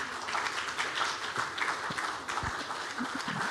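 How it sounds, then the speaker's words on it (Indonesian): Audience applause for Anies Baswedan at a presidential candidate speech event in Indonesia: dense, steady clapping from a crowd filling the room for several seconds, with no talk over it. "Mari kita berikan aplaus kepada Pak Anies"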